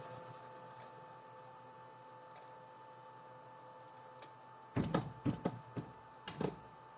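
CNC lathe controlled by Mach3 moving a center drill into position: a low steady machine hum with faint ticks, then a cluster of short whirring servo bursts near the end.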